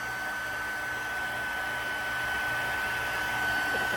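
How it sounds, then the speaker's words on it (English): A handheld heat embossing tool blows hot air over card stock with gold embossing powder, giving a loud, steady whooshing hum that runs without a break and grows slightly louder near the end, with no talking. "I don't know if you can hear me over the heat tool"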